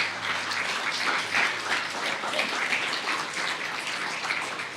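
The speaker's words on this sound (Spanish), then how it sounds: "Dale otro fuerte aplauso a Dios." A church congregation gives a loud, sustained round of applause, dense steady clapping filling the space throughout with no speech over it.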